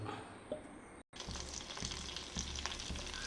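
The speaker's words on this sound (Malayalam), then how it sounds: "നമ്മൾ പോലെ ഇതുപോലെ വറുത്തെടുക്കണം ഓക്കെ നന്നായിട്ട് വറുത്തെടുക്കുക" Pomfret fish rubbed with chilli and spice masala sizzles steadily in a hot pan, a continuous close frying hiss broken by a brief dropout near one second.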